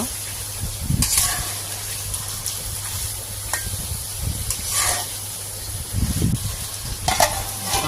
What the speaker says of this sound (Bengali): ভালো করে কষিয়ে কষিয়ে নিব